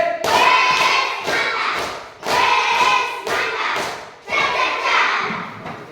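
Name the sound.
class doing a 'tepuk apresiasi' rhythmic appreciation clap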